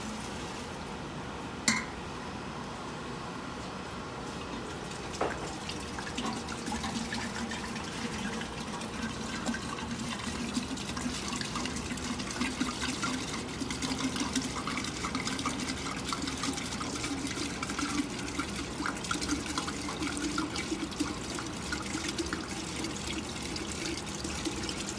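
Solvent pours steadily into the tank of a solvent purification system, a continuous liquid fill that holds for the whole stretch with a single sharp knock near the start and no talk over it.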